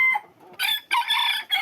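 Fancy foreign-breed chickens kept as a hobby in Bogura crow and cluck sharply up close, a short loud burst of bright calls.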